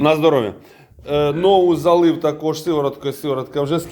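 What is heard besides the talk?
No everyday noise stands out behind the speech.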